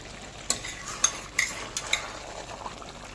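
Homemade ghee being stirred into a mushroom and cauliflower dish in a pan, with a few distinct utensil scrapes and clacks over a soft, steady sizzle, fairly close and without talk.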